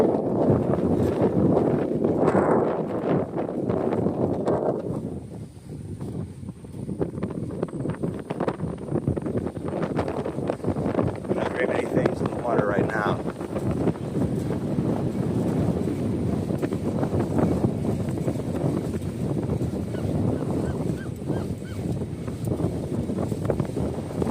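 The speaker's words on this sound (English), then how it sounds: "wind's really trying to fight us" Strong wind buffets the microphone while cycling around lakes against a headwind, a loud, continuous low roar that swells and eases in gusts throughout, with no talking.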